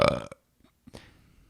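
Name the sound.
burp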